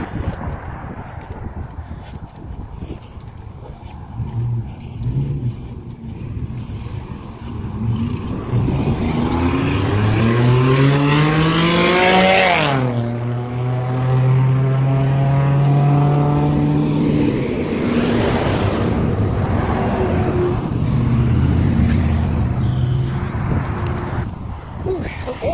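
A car passes close by on a road lined with parked vehicles, its engine pitch sweeping down as it goes, with road noise and other traffic around it and people talking over it throughout.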